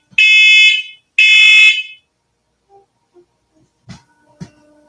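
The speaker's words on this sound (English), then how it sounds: "The alarm went off." An indoor fire or smoke alarm shrills in two loud, piercing bursts about a second apart, then falls silent, leaving a few faint knocks and clicks.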